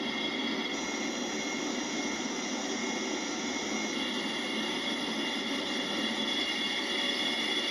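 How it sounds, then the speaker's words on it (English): A steady Boeing 747 jet engine drone in a flight simulator game, with a constant high whine, continuous and unchanging, no voices. "I like the sound of the engines."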